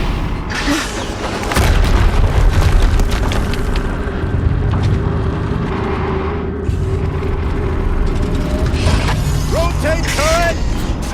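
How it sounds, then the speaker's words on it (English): Explosions go off in the Horizon Zero Dawn video game, a loud booming blast followed by rumbling and mechanical clatter, with a second burst later and some chirping tones near the end. "Another explosion."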